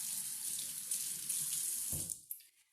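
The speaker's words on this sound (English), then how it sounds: "I'm going to rinse my hands." Tap water runs steadily into a sink while hands are rinsed during hummus preparation, a continuous close hiss that cuts off abruptly near the end, leaving a few faint drips.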